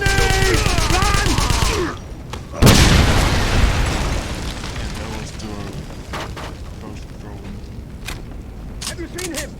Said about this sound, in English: The charge is set! Grenade! Run!